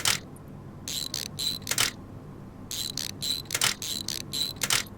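Bolts being fastened on a rear drive shaft in Offroad Mechanic Simulator produce bursts of rapid mechanical ratcheting, like an impact wrench, coming in short repeated runs separated by brief pauses, close and clear.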